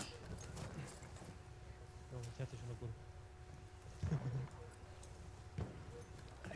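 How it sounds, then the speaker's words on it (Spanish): A horse gallops in the World War I shooter Battlefield 1, faint hoofbeats and scattered thuds under a quiet, noisy battlefield backdrop. "Un caballo."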